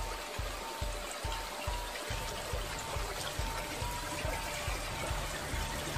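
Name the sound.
clear stream water flowing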